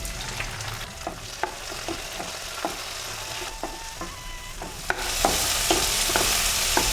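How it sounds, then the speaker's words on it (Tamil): Onion and tomato sautéing for sambar in a hot pan, with a soft continuous sizzle broken by a steady series of sharp spoon scrapes and stirs against the metal, close and clear with no talking. "வெங்காயமும் தக்காளியும் வதங்கிடுச்சு"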